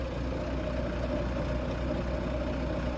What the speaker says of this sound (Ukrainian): Так працює двигун, бортові, коробка передач.